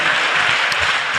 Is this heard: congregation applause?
yes